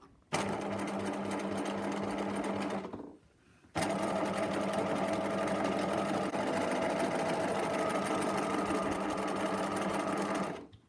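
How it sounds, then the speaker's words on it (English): A sewing machine fitted with a 4 mm twin needle runs steadily, stitching a channel through fabric for an elasticated gather: two sustained bursts of motor whir, the first about two and a half seconds, then a short pause before a longer seven-second run. "I've got the machine set up on a twin needle"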